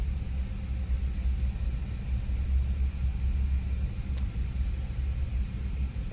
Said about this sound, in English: APU spooling down